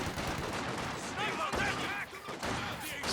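Sniper rifle shots crack out during a Company of Heroes 2 battle, a few sharp reports standing out against dense, constant wartime game noise.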